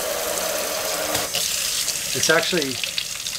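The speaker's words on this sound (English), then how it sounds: "So let's turn on the hot water and see what actually happens here." Hot water runs steadily from a kitchen tap fed by a propane inline water heater in a converted school bus, a constant hiss while a person speaks briefly.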